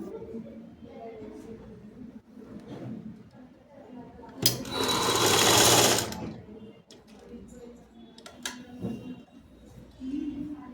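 Sewing machine stitching the side cuts of a dress top in a tailoring lesson, running in one loud burst of about a second and a half mid-clip, with quieter handling sounds and talk before and after.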